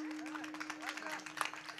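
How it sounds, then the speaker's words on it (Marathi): An audience at a Warkari kirtan claps in a burst of scattered, uneven applause, fairly faint and distant, with a steady low hum beneath and a voice speaking over it. "त्यांच्यासाठी सुद्धा जोरदार टाळ्या झाल्या पाहिजेत गड्या"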